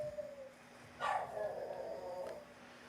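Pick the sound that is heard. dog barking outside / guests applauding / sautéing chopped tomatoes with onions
dog barking outside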